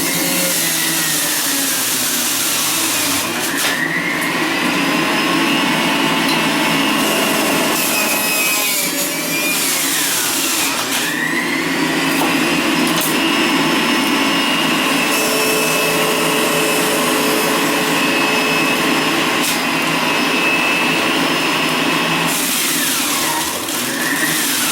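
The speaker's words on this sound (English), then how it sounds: "I'm going to turn the juicer on." An electric juicer runs loudly, grinding and whirring continuously as vegetables are fed through it, with pitch dips and surges as the load changes, steady and close throughout with no talking.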